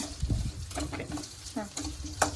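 Onions fry in a pan until golden, a close sizzle broken by scraping stirs and light clinks of the utensil, with a voice speaking faintly underneath.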